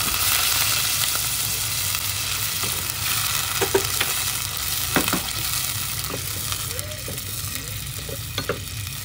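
Rice dropped into a hot pot hisses in a steady, broadband sizzle, with occasional stirring scrapes and clicks rising above the continuous frying noise.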